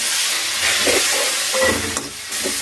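Three chopped tomatoes sauté in a hot pan for a baby jackfruit kuruma, giving a loud, continuous close sizzle with a brief stir near the end.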